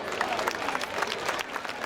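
A crowd at a local festival gathering in Villanova Monteleone, Sardinia, applauds the event organisers, giving brief, dense, steady clapping at moderate distance.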